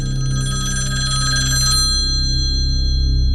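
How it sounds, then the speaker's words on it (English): A hotel room telephone rings with a bright, repeating electronic trill that stops partway, leaving a steady low hum in a quiet room. "Then the room phone rang."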